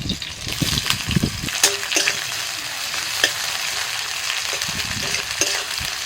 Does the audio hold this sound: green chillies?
yes